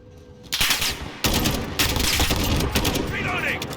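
Rapid automatic gunfire crackles in a Call of Duty Warzone match, dense bursts of shots filling the scene with brief pauses between volleys, loud and close.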